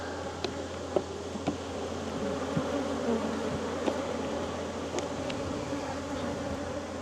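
Honey bees drone around a backyard hive where a new queen was caged, a steady, close buzzing hum that never lets up, with scattered short crackles and taps breaking through.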